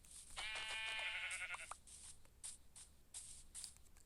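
Sheep bleating in the Minecraft video game: one clear, wavering digital bleat followed by soft shuffling clicks and footstep-like taps at low volume, with no talk.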